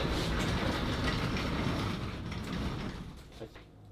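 1968 VW Beetle engine running: a dense, close, continuous mechanical rumble that gradually fades in loudness toward the end.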